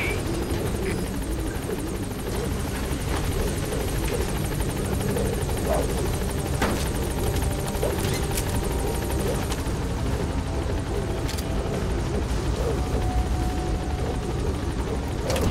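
A helicopter arrives at a landing zone in the video game Metal Gear Solid V: The Phantom Pain, with a loud, continuous rotor drone throughout and voices speaking over it.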